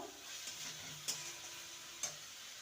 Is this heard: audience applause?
no